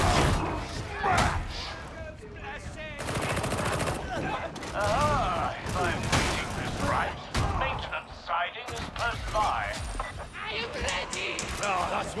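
Rapid, dense gunfire from horde gunners in the Warhammer 40,000: Darktide game, with bursts of automatic fire, thuds and impacts layered under frequent talking by players.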